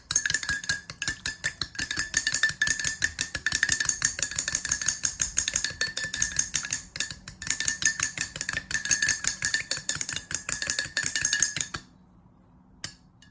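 A spoon stirring honey into green tea in a cup or glass, making dense, rapid clinking and scraping against the sides for most of the time before stopping abruptly near the end.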